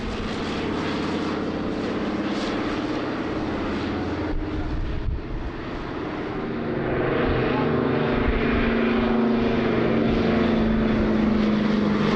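A Douglas C-47 propeller transport flies past at an airshow in Jersey, its piston engines giving a steady, loud droning hum that holds throughout and swells slightly toward the end.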